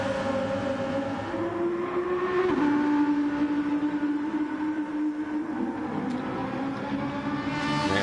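McLaren race car at the Nürburgring 24 Hours pre-qualifying, its engine droning steadily with a pitch shift midway as it passes near and loud, a continuous tonal whine throughout.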